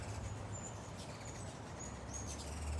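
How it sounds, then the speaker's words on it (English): Birds flitting around hummingbird feeders outdoors, with thin high chirps and squeaky calls over a steady low background hum, faint and somewhat distant, with no talking. "Birds are flying all around."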